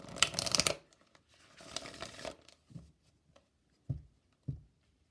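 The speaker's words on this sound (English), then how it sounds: "I'm going to pull some angel cards for you guys." Angel cards shuffled in a deck during a card reading, a crisp riffling burst at first, then a softer stretch of shuffling and a few short, quiet card taps near the end, heard alone without talk.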